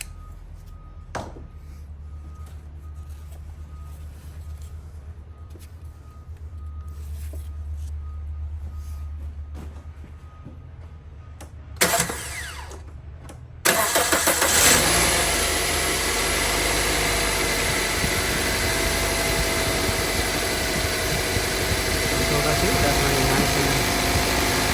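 A 2005 Toyota Avensis 2.0 petrol automatic, with a freshly replaced serpentine belt, cranks after some quiet handling noises, then catches and settles into a loud, steady idle close by.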